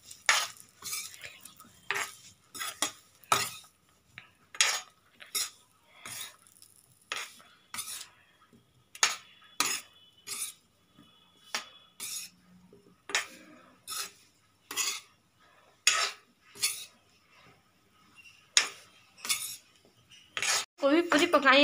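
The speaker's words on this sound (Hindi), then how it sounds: "कढ़ाई में आज में तेल डालेंगे, अपनी गोभी डालेंगे जो हमने 10 मिनट के लिए मैदा में रखी थी, और इन्हें फ्राई कर लेंगे थोड़ा सा।" Cauliflower florets coated in maida frying in oil in a kadhai, with repeated scraping and clinking strokes of a metal spoon against the pan in an irregular rhythm, over a faint sizzle and occasional speech.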